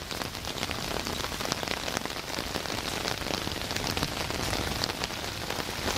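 Steady rain falls and patters densely on surfaces in an even, continuous hiss with no pauses and no voices.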